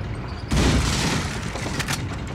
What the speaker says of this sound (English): Nice, hand grenade